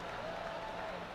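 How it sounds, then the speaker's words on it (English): A virtual golf gallery in PGA TOUR 2K23 roars and applauds after a shot, a steady dense wash of crowd noise with no talk. "Crowd goes wild."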